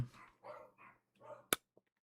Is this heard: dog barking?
yes